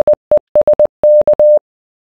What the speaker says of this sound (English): The Morse code for the word desk is as follows.